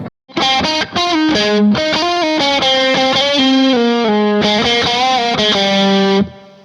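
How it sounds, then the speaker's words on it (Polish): A distorted electric guitar with out-of-phase pickups, a Fender Jag-Stang, plays a melodic line of sustained notes with a thin, nasal, honking tone, loud and continuous throughout. "Przeciwfazę najbardziej będzie słychać na tym, na jakiejś melodii."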